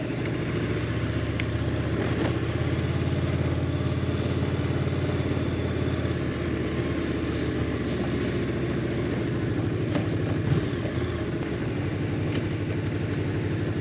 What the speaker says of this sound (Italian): Ok, stoppiamo la moto qua.